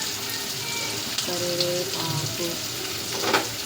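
Curry leaves frying in hot oil crackle and sizzle steadily at close range, with brief spluttering bursts and light stirring, quiet overall.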